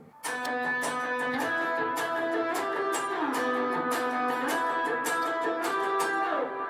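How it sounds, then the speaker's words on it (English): Guitar strummed in a steady rhythm, with sharp percussive muted-string scratches cutting in regularly between the ringing chords. "you're hearing a lot of the ghost notes as well because of some of the muted strings"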